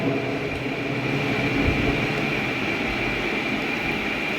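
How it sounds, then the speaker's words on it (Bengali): An amusement park train at Comilla Magic Park runs around its track, giving a steady, continuous rumble and rolling noise at moderate distance that holds evenly throughout without talk. "এই যে ট্রেন দেখা যাচ্ছে চারপাশে ঘোরে ট্রেন"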